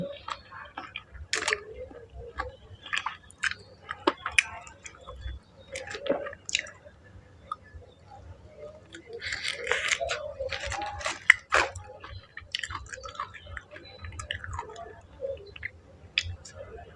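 Someone eating grilled shrimp quickly, with close, wet chewing, squishing and biting sounds at irregular intervals and faint voices in the background.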